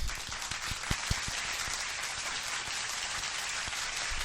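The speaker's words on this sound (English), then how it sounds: "So another round of applause for Big D-Rest." A studio crowd gives a round of applause for a big donor on a UFC recap show, a brief scattered patter of claps with a few sharp louder hits early on, fading into a steady hiss.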